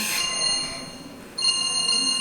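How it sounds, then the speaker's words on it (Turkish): An indoor telephone rings with bright, steady electronic tones in two bursts, the second starting partway through, over faint room noise with no talking. "Bir dakika telefon..."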